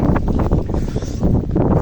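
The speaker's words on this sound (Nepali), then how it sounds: "हावा चलिरहेको छ" Strong wind buffets the microphone outdoors in a Serbian village, a loud, continuous low rumble with gusty swells and no talking.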